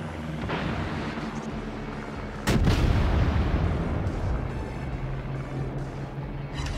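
In World of Warships, a cruiser battle brings a sudden heavy cannon boom midway, followed by rumbling impact blasts and low droning engine hum in the background.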